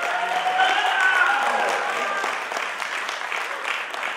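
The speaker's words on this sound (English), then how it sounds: "round of applause for Real Media" Audience applause at a media gathering's closing plenary, a room of people clapping steadily, slightly louder early on and then easing, with some faint voices mixed in.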